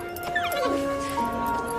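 A dog in a movie scene whimpers and lets out high, yipping whines over a steady background, with human voices present in the mix.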